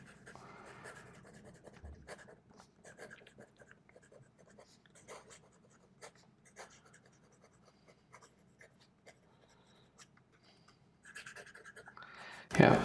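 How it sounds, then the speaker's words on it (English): Lamy Accent fountain pen writing fast on paper: a steady run of quick, close scratchy nib strokes with short pauses, faint and alone, ending with a louder bump. "Let's try fast writing."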